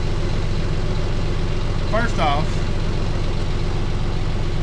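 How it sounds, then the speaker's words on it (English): A tractor engine idles steadily at close range with a low, even rumble throughout, while someone talks over it. "I like to leave the tractor running"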